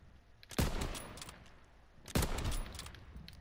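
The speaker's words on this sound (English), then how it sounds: "I'm either gonna win this gunfight or I'm gonna die brutally" Two sharp, loud gunshots about a second and a half apart, each with a short ringing tail, ring out during a gunfight in a first-person shooter video game, with no talking.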